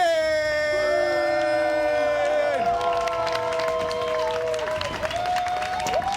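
Crowd at a Twitch Rivals 2019 E3 Showdown esports event applauding and cheering a winning team, a dense wash of clapping under loud, gliding synth music tones.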